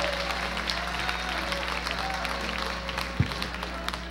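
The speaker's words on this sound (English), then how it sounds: "I want you to give a round of applause now for your MC" Steady audience applause fills a comedy workshop graduation show for the host's introduction, a dense wash of clapping heard alone with a faint low hum beneath it.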